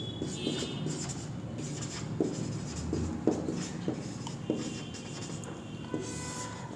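Writing on a board during a grammar lesson produces soft scratchy strokes and light taps in an irregular rhythm, close and fairly quiet against faint room noise.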